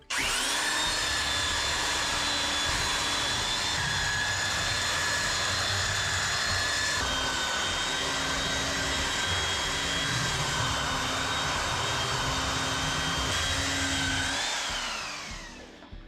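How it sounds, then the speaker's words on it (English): Belt sander running steadily on the end of a wooden workbench, a loud continuous whining drone with a high tonal hum that holds for about fifteen seconds before winding down at the end. "So I'm just going to give it a quick rub with the belt sander."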